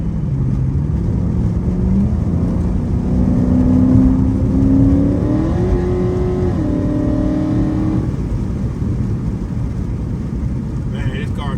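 A Dodge Charger revving as it drives, its engine note climbing through gears in a couple of rising pulls before easing back into a steady rumble of road noise, heard from inside the car at moderate level.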